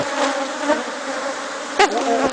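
A honeybee swarm buzzing at an apiary, a loud steady drone of many wings close by, with a brief louder bump near the end and no talk.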